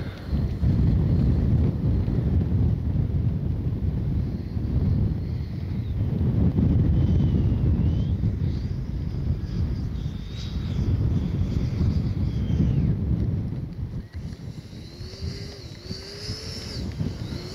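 Strong gusty wind buffets the microphone at an RC model airfield, a loud continuous low rumble swelling and easing in waves, with faint high whines from a jet model audible toward the end.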